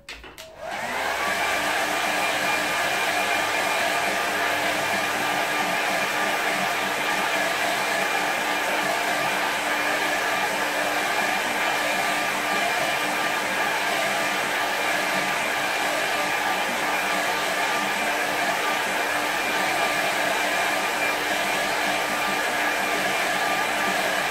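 A hair dryer blows steadily for over twenty seconds to quick-dry a watercolour painting of a snowy park scene, a loud, even whooshing drone that starts abruptly and continues alone without talk.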